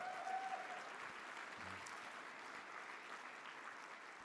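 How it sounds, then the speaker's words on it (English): Applause for Sarah McBride at the LGBTQ Victory Fund National Brunch: a steady, fairly faint wash of clapping from a banquet crowd that holds evenly for about four seconds. "So another round of applause to Sarah McBride"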